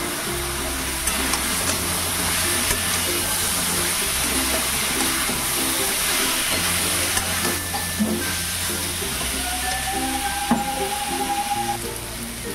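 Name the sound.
young jackfruit being stirred with spices in a pan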